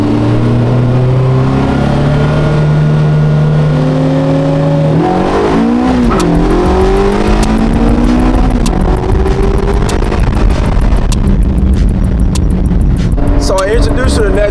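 Loud engines of a Caterham 7 and supercars rev and rise in pitch, a car sweeping past mid-way, with popping and crackling near the end, while people talk over the roar.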